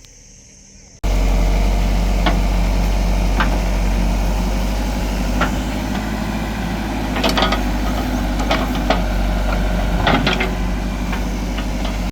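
A JCB backhoe loader works on a farm with its engine running as a loud steady low rumble after a quiet opening second, with occasional metallic knocks over the drone.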